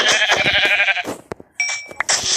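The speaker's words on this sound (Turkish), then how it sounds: "Al koyun. Koyun buldum." A single loud sheep bleat in a survival video game, then a couple of clicks and a short electronic-sounding tone.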